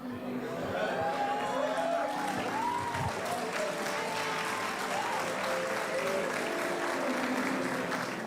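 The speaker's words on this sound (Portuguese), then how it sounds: "Mas aplaudiu, não entendeu nada que eu disse, mas aplaudiu" Church audience applauding a sermon from a pastor, a steady broad wash of clapping that holds throughout, with scattered voices and crowd murmur mixed in.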